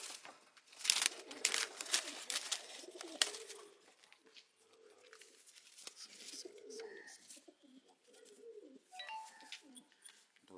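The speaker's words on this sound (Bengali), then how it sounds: "ছটফট ছটফট করে পায়রাগুলো, বন্ধ লেজের পায়রা" Pigeons in a loft coo softly and rustle nearby, with sharper bursts of fluttering and scraping early on, then quieter, intermittent cooing.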